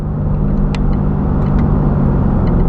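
A 2016 Corvette Z06 engine roars steadily under acceleration from inside the car, a loud continuous low rumble with brief sharp transients that could be gear shifts.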